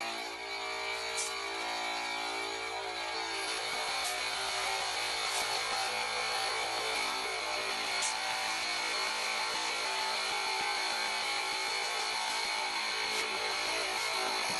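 A small electric pump motor of a Fanttik X8 battery inflator hums and whines continuously and steadily nearby, repressurizing a foam sprayer, with a mechanical buzz and no talking.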